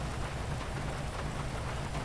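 Steady rain falls in the driving game LSPDFR, a dense continuous hiss that fills the whole stretch with a low rumble beneath it and no voices.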